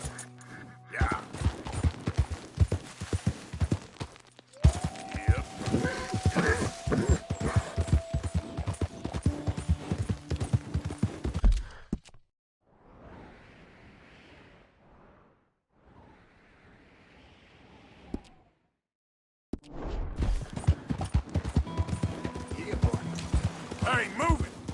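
Horse hooves clip-clopping as it walks, steady close hoofbeats with a voice urging it on, the sound dropping away briefly mid-clip before returning.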